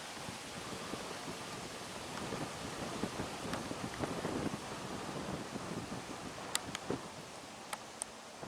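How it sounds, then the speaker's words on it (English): Gusty wind rushes across an open golf course during the final round of a tournament, a steady broadband roar of microphone buffeting with a few sharper knocks and clicks near the end, no voices. "Big gust of wind now, blowing."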